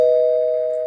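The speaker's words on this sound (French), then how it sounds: "On a frappé la sonnette." A doorbell sounds one steady, sustained electronic tone that rings out alone and slowly fades, with nothing else heard.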